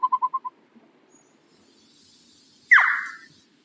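A wild owl of the boreal forest calling in winter: a quick run of five short, evenly spaced hoots, a pause, then one loud, harsh descending squeal-like screech, close by in an otherwise quiet setting.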